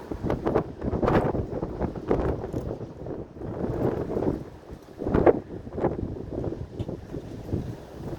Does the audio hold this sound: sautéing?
no